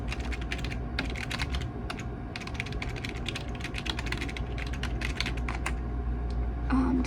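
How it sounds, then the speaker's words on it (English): Steady, close-up clatter of a computer keyboard being typed on in short bursts with brief pauses, quiet and without talk, in a travel agent role-play setting. "let me type in your total."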